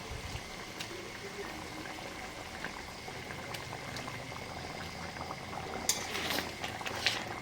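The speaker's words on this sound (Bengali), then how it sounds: "ঝোল ফুটে এসেছে এখন আমি ভেজে রাখা মাছগুলো দিয়ে দেবো" Bengali rui posto gravy bubbles steadily at a low simmer throughout, with a few brief splashy clatters near the end as fried rohu fish pieces are added to the pot.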